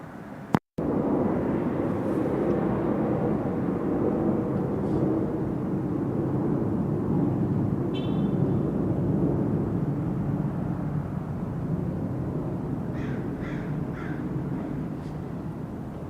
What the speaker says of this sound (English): You can hear that plane activity.